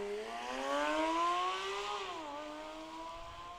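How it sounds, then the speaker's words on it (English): A 2007 Chevy Corvette race car on an open road course, its engine droning steadily and rising in pitch as it accelerates, then easing slightly, heard alone without voices. "As we bring forward our third to last car. This is car 605 with Jack Schmidt behind the wheel."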